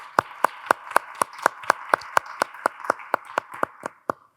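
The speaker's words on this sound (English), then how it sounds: "Can we just give a round of applause to them?" Sharp, evenly spaced claps from a small audience at an academic conference opening, close and distinct, about four per second, ending abruptly in near silence.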